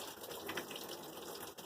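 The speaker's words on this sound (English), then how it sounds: "we're going to fill up this pot with hot water" Hot water for rinsing washed fleece pours into a pot in a steady, soft gush, quiet and continuous with no talk.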